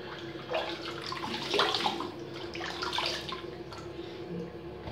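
Water runs and splashes steadily while a shaving brush or face with donkey milk soap lather is rinsed, a continuous close wash of moderate loudness with slight swells, no voices.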